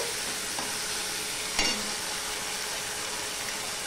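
Ginger and spices frying in a pan with a steady sizzle, and a single brief scrape of a spoon stirring through the mix.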